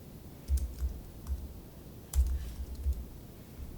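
Two quick bursts of keystrokes on a computer keyboard, light close clicks in short rapid runs separated by a pause, with a quiet room behind.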